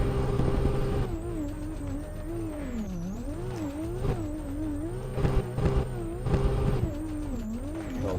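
A car engine drifting in Assetto Corsa during a Tokyo Drift challenge, revving loudly and continuously, its pitch swooping up and down as the throttle is worked, with brief louder bursts partway through.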